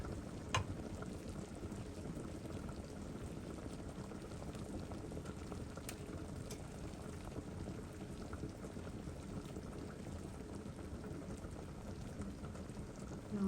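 Tilapia light soup simmers in a covered pot, giving a quiet, steady bubbling hiss that runs unbroken throughout with a few faint clicks.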